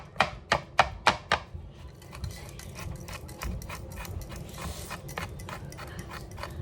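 Someone chops zucchini with a knife on a cutting board: five crisp, evenly spaced strikes ring out up close, then a quicker, softer run of chops follows.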